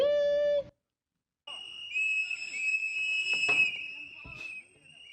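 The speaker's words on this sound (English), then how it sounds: "really annoying when people blow whistles" Whistles blown at a protest: a short shrill whistle blast, a pause, then sustained high-pitched whistling with rustling and muffled crowd noise underneath.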